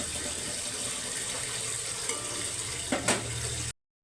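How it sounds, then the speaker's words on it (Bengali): Water pours into a pan of fried spices while cooking a hilsa fish curry with sola kochu, giving a steady rushing sizzle and hiss with a couple of brief splashy bursts near the end before it cuts off abruptly. "মশলা কষানো হয়ে গেছে, এবার জল দিয়ে দেবো।"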